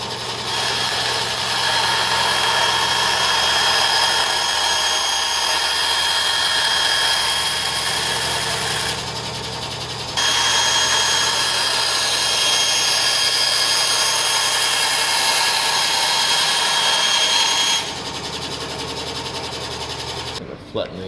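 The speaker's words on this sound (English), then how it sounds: "And each of these bits I can just sand off." A power tool sands small leftover bits off cut acrylic pieces for a model greenhouse, making a steady, close buzzing whine that drops briefly in the middle and again near the end.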